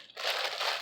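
Plastic bag crinkles in a steady burst of close, bright rustling as it is handled.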